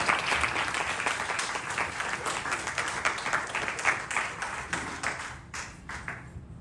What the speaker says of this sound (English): I want you to put your hands together and give our Vyaas Shri a nice, loud round of applause.